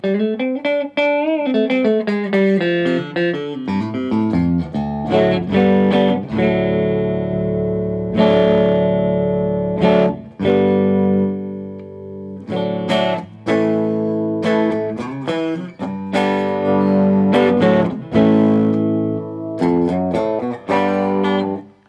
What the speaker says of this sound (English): there is so much more treble in the guitar, it's not as muddy at all